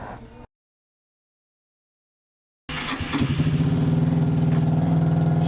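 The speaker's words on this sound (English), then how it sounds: "Shut up, noisy bike." After a brief burst and a silent gap, a motorcycle engine idles close by with a steady, throbbing low rumble at a roadside bike shop in South Africa.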